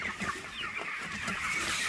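Chickens on a poultry farm cluck softly in the background, scattered low calls over a steady hum of the shed, with no talk.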